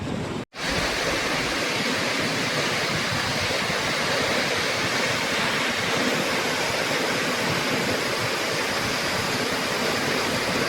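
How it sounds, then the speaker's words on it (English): A steady, roaring rush of falling water from a waterfall near Stavanger, Norway fills the scene, broad and continuous with a brief dropout near the start. "We have arrived at the Stavanger waterfall."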